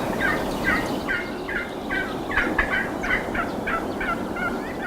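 Wild turkeys gobble repeatedly during a spring hunt in Minnesota, a run of rapid rattling calls repeating about every half second over steady outdoor background noise, moderately near and clear.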